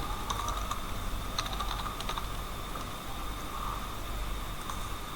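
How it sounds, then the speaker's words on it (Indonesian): Computer keyboard typing text into a design program, a steady run of soft, close key clicks with faint clustered bursts over a constant low hum, no voices. "di sini kita bisa ketikkan lagi"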